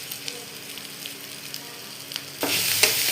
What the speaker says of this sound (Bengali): গরম তেলের মধ্যে আমি পেঁয়াজটাকে ছেড়ে দিচ্ছি, এর মধ্যে ছেড়ে দিচ্ছি আদা কুচিটাকে।